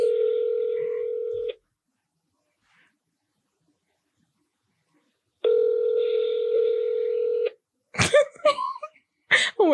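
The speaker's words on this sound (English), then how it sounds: "It's fucking ringing." Two long telephone ring tones separated by a few seconds of silence, followed by brief bursts of nearby sound.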